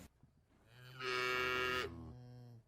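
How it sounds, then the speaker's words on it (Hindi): A buffalo being taken out to graze lets out a single drawn-out moo, rising to a loud sustained middle and then trailing off, with no talking. "गोपाल भैंसों को चराने ले जाता है"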